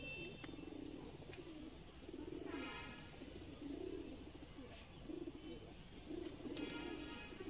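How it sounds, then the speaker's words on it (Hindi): An old male Kamangar pigeon coos close by in repeated low, throaty phrases at a steady rhythm. Faint chirps from other birds sound in the background. "कमंगर नर है ये, काफ़ी पुराना कबूतर इनका।"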